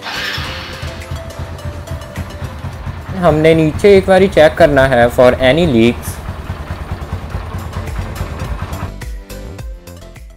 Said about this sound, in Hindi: और अब फाइनली हमने अपने बाइक को स्टार्ट करना है।